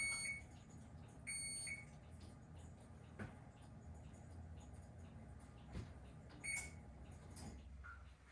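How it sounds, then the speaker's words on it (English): A kitchen timer goes off while biscuits bake, giving short high electronic beeps in a few separate bursts over a low background rumble of kitchen noise, moderately close and fairly faint. "timer's going off"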